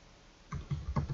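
Typing on a computer keyboard: a short run of four or five quick, close keystrokes starting midway, after a quiet start.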